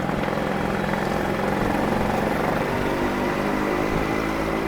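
A Yamaha RX 100 motorcycle engine, a two-stroke on the road, runs with a dense, steady buzzing drone, close and loud throughout with no pauses.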